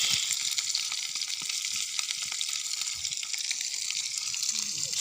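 Dried fish (bulad) frying in a pan for lunch, a steady close crackling hiss of hot oil with scattered pops throughout, no voices.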